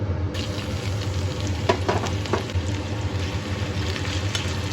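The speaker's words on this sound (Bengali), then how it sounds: "পেঁয়াজ কুচি দিয়ে নেড়ে চেড়ে দিচ্ছি" Chopped onion sizzles loudly in hot oil with black cumin and red chillies, a dense steady frying hiss broken by a few scraping stirs of a spoon in the pan, close up and without speech.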